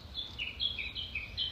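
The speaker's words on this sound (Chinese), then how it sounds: "小鸟在叫，小鸟叫是不是？" Small birds chirping outdoors, a quick series of high thin tweets repeating in short bursts, faint and somewhat distant with no voices.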